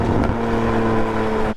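A Porsche Spyder fitted with a JCR titanium race exhaust drones loudly and steadily up close at a constant pitch, with a brief flare near the start, then cuts off abruptly.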